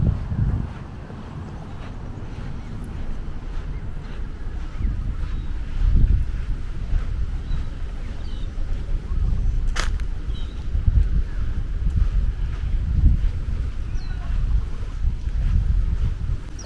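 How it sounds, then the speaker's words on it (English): Strong wind buffeting a microphone on a sandy beach, a continuous low roaring rush that swells in heavy gusts, with surf and moving air mixed into the blustery noise throughout. "The wind is pretty strong here, so my apologies that you can hear it in the recording."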